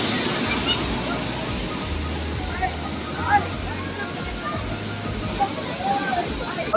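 A natural waterfall rushing continuously, a loud steady roar close by with splashing, while people talk intermittently over it.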